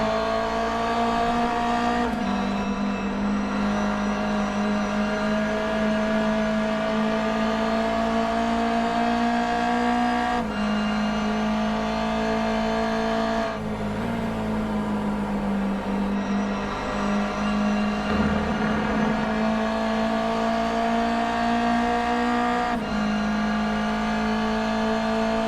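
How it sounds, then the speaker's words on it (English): Race cars at round one of a season open race on a circuit, with engines droning loudly and continuously and pitch rising and falling through gear changes, a dense, constant roar from start to finish. "Some pretty exciting racing to open the season."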